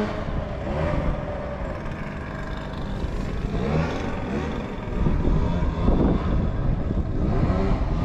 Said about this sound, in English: Sorry about the fan, the blower there.